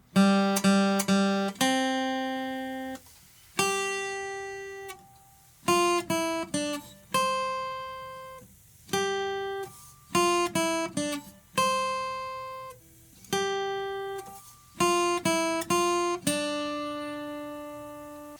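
A tune picked on guitar from the opening, a steady melody of clear plucked notes in short bursts and held tones with brief pauses between phrases, played solo at close range with no voices.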